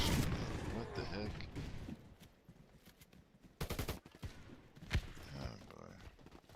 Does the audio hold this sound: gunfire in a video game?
yes